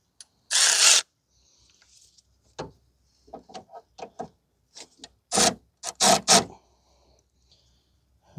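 A 15 or 18 mm front stabilizer link nut on a 2016 Nissan Versa Note 1.6 being tightened, with a short burst of rasping ratchet clicks followed by a series of brief clicks and quick grinding bursts, close and fairly loud.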